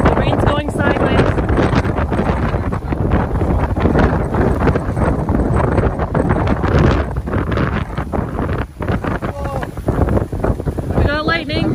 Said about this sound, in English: Big gust of wind.